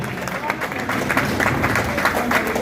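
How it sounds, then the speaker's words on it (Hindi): Crowd applause at a cricket league opening ceremony in Jhelum, dense steady clapping from an outdoor audience carrying on throughout, with some voices mixed in. "तालियों में कंजूसी ना करें।"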